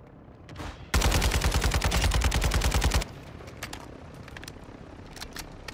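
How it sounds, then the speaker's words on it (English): Dense automatic gunfire erupts in a gunfight in Call of Duty: Modern Warfare II, a loud rapid burst lasting about two seconds that then cuts off, leaving quieter scattered clicks and ambience. "Be ready for a gunfight."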